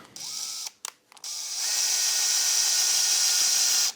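A power drill drives screws into a wooden toy track in short bursts with brief stops, then runs in one long, steady whirring stretch close by, with no voices.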